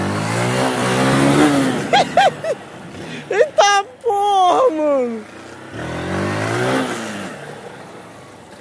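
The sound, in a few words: Honda Titan 160 motorcycle engine revving, alcohol-tuned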